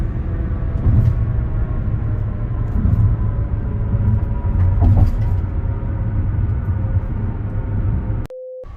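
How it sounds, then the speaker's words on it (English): City traffic near the Port of Tampa, a continuous low rumble of passing vehicles with a few louder swells, ending in a sudden electronic tone. "Look at all this traffic."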